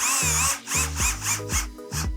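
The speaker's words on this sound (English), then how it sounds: "it is a little difficult to drill into this aluminum" A power drill bores into an aluminum bar of a plant holding system assembly, its motor whining and bogging in several short bursts that start and stop, loud and close with no talk.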